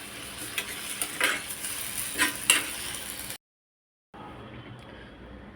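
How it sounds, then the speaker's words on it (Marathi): Onion and tomatoes roast together in a pan, a soft sizzle with scraping stirs and a few clinks of a utensil, then a brief silence before the quiet sizzling resumes. "टोमॅटो आणि कांदा एकत्र भाजून घेऊया."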